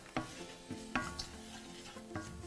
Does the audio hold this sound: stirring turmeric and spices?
yes